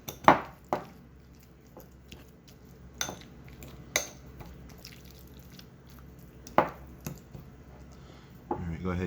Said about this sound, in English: go ahead and mash that up